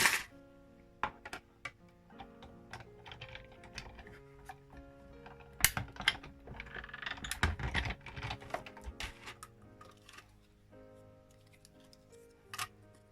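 A Stampin' paper trimmer cuts designer paper on a craft table: a series of close, crisp clicks and short scraping slides as the blade moves, with quiet pauses between.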